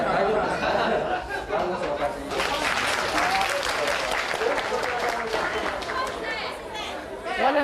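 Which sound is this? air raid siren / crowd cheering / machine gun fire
crowd cheering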